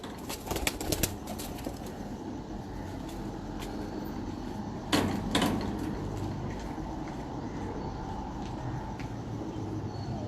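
Pigeons coo and flap on a Lahore rooftop, with a loud burst of wingbeats about halfway through over steady low rumbling ambience. No one speaks.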